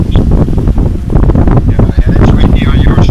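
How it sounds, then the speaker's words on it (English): Strong wind blowing over open water where spray is being whipped up, a loud constant roar buffeting the microphone, with voices talking underneath. "Oh, it's real windy on our side."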